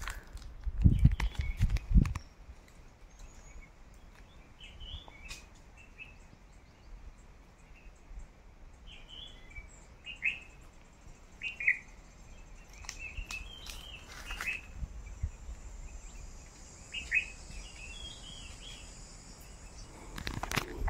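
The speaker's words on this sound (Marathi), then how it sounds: "जी पाखरचा आवाज आहे ना तो तुम्हाला मी ऐकवतो" Small birds chirp and call in scattered short bursts across a quiet mango and cashew orchard in the Konkan countryside, with a few louder rustling footstep-like sounds at the start and soft ambient hush throughout.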